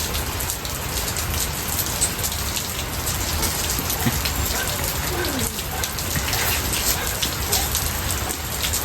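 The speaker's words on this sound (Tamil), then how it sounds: "மழை பாருங்க அதிகமாக இருக்குது ம் இங்கே ஏகப்பட்ட மழை" Heavy rain pours steadily and densely, a constant loud hiss with drops pattering on surfaces throughout.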